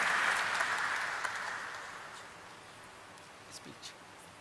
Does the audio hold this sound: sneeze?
no